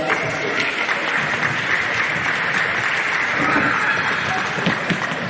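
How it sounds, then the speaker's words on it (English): Dense applause from the crowd at the final of the 2025 Winter Futsal League in Sydney, steady and even for a few seconds with a murmur of crowd noise mixed in. "Big round of applause for our sponsors."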